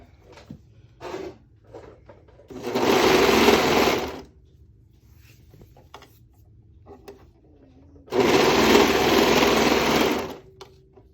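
A serger overlock machine runs in two loud, steady bursts, each about two seconds long, as it sews along the end of the fabric for a scrub cap. Quiet pauses fall between the bursts, with faint handling noises.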